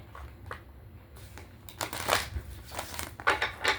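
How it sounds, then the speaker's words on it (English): Soft crinkling and riffling as a deck of Declare and Decree oracle cards is shuffled by hand, close and quiet, in short irregular bursts with no talk. "So we get this in order and we can go ahead and shuffle,"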